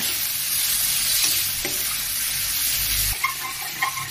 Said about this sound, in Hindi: अभी बढ़िया से फ्राई होंगे और अभी टमाटर ऐड कर दिया थोड़ा सा